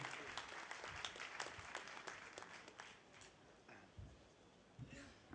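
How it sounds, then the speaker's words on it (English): An audience at a speech on Ayurveda in Malaysia claps for the speaker, a dense, fairly faint patter of hands that thins and tapers toward the end. "Please join hands with me to give him a great applause."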